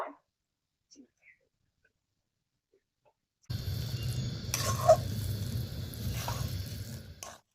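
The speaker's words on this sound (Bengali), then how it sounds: "কপিটাকে আমি ভালো করে মিশিয়ে নিচ্ছি যেন গুঁড়া পাউডারগুলো সব মিশে যায়" Cabbage being stirred with powdered spices in a cooking pan, a soft sizzle with wet scraping and squishing after a quiet start.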